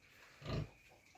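A single short pig grunt from a farm hog, close and fairly quiet, standing alone against a faint background.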